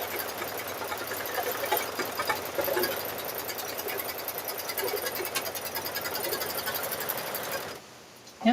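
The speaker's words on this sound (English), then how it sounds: "This is last hooping, so we'll get this one stitched out" A computerized quilting machine stitches out a hooped quilt block, a steady rapid mechanical hum with dense needle chatter running loud and continuous, then stopping abruptly near the end.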